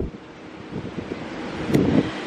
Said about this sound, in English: So it is windy out, but it's still beautiful.